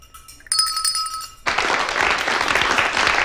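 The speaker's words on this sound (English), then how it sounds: "I'm waiting for the applause" A live studio audience on a Brooklyn cafe talk show breaks into applause right after a brief bright chime, and the clapping holds as a loud, even burst.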